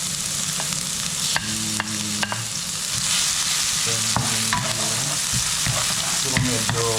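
Chopped onions fry and sizzle steadily in hot oil in a pan, with a spatula scraping and clinking against the metal at intervals, close and continuous with no talking.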